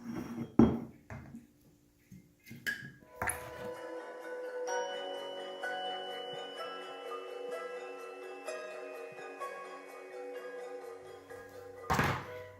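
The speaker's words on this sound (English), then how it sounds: "So now what's important is that you pack the sauerkraut down." Sauerkraut packed down into a big mason jar, with hollow thunks and glassy clinks of a utensil against the jar, irregular and close, with quiet ringing between the knocks.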